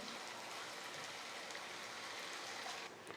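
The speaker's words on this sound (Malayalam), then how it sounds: "കുറച്ച് ചൂടുവെള്ളം ഒഴിക്കാം" Steady, continuous rush of hot water pouring close by into a pot of chicken curry, a dense hiss that holds evenly before easing slightly at the end.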